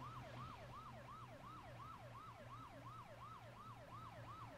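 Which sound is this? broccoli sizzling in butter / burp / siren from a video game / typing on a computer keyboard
siren from a video game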